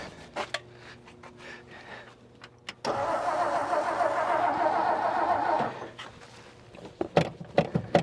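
A 1959 Meteor's engine cranks for several seconds without catching, a close, steady whirring turnover that begins abruptly, with faint clicks and knocks before and after.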